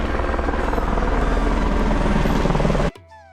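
A helicopter carrying pilgrims on the Char Dham route thunders close and loud with a steady rotor chop for nearly three seconds, then cuts off abruptly into near silence.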